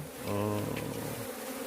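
Honey bees hum in a dense, steady drone up close at their hive, a warm continuous buzz with no voices over it.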